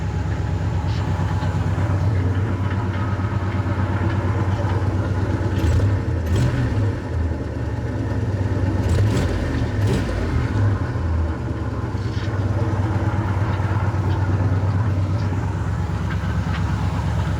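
A 1977 Pontiac LeMans engine idles steadily with a constant low rumble and a few faint clicks and rattles on top, close by and with no voices.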